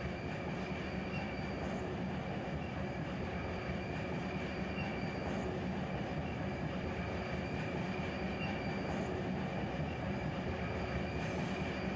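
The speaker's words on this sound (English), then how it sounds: "You hear the squeal of the tires." Railcar wheels in Run 8 Train Simulator III produce a steady rumbling roll with a thin, sustained high squeal layered on top, continuous and even throughout without voices.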